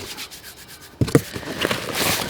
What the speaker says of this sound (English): canvas bag with our tent pegs and ropes by the sound of that